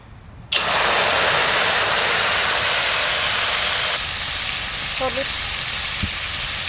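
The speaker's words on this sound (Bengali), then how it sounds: "কালো জিরে ফোড়ন দেবো" Black cumin seeds hit hot oil with a sudden loud hiss that holds steady, then eases slightly, with a few faint clinks near the end.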